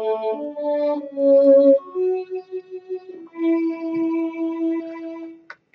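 LASS first chair strings playing from studio monitors and bleeding into a headset mic, sounding as a thin, roomy legato line of sustained notes that step through a slow melody, with no talk over it.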